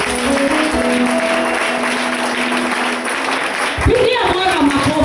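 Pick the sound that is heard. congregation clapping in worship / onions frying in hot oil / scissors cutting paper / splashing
congregation clapping in worship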